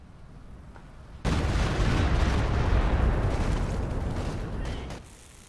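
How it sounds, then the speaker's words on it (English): A Stuka rocket barrage in Company of Heroes 2 hits suddenly after a quiet moment, becoming a dense, loud roar of overlapping explosions that lasts about four seconds before fading. "We now got the Stuka barrage."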